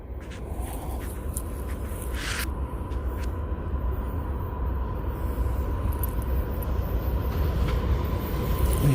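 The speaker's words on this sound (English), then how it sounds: "Another train coming." A southbound train rumbles past nearby, a loud, steady roar of wheels and rail cars that holds without a break throughout.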